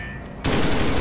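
A sudden, loud, dense burst of automatic gunfire erupts in the Call of Duty: Black Ops video game after a quiet moment, with rapid shots fired in a steady rapid rhythm.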